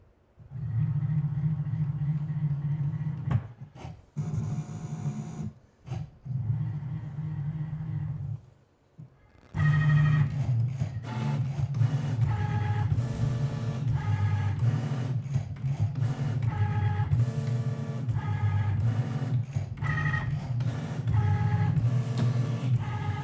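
A Cricut machine cuts smart paper sticker cardstock with a low motor hum and rhythmic mechanical whirring, pausing briefly a few times before settling into sustained, pulsing cutting strokes.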